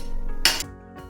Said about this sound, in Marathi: आता कढईवर एक झाकण ठेवायचं